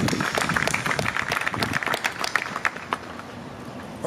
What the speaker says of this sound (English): Please give them a round of applause for their immense sacrifice in the past.